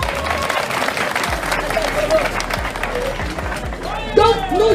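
Crowd applauding and cheering at an RHDP political rally in Abobo, a steady wash of clapping and voices that swells near the end, with talk mixed in.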